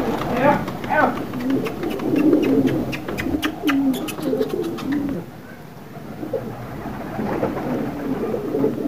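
Pigeons coo on a rooftop in a low, rolling chorus with wing flaps and clatter, while people talk nearby, alongside distant background noise.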